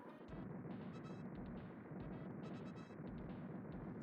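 Grenades bursting in the arcade game Super Smash TV: a dense, continuous rattle of crackling blasts at low volume, with no talking.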